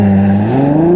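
A Ferrari 12Cilindri V12's deep engine drone with rising pitch as revs climb steadily, heard from inside the cabin, loud and continuous with no talking.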